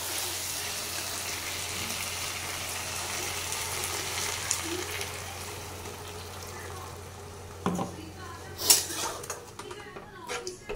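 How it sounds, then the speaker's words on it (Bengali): Pointed gourd curry with potatoes sizzles steadily in a pan of hot oil, then a sharp burst of hissing and spattering rises near the end as water is poured in. "এবার আমি এটাতে জল অ্যাড করব।"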